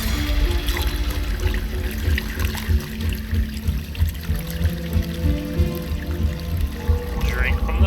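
Water runs steadily from a faucet in Assassin's Creed Valhalla, a continuous trickling, pouring stream heard up close under a low rumbling game background.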